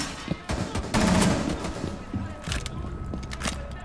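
Gunfire in Rainbow Six Siege, with several bursts of shots at moderate distance, the loudest around the middle, set among game sounds with no talk over them.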